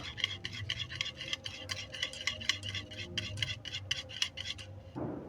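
A spoon stirs sugar caramel into cake batter with quick, steady, rhythmic scraping and clinking against a bowl. The sound is close and continues without pause for about five seconds, with no talking.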